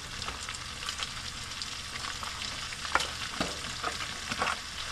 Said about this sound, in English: it's time to add my red onions